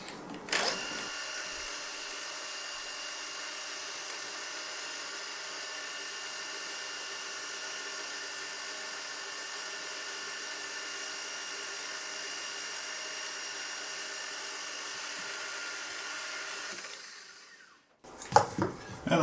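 A 1.5mm carbide ball end mill spins at 3200 RPM, cutting 0.5mm-deep oil grooves into an import lathe's compound slide. It gives a steady, fairly loud whine that holds unbroken for about seventeen seconds before cutting off sharply.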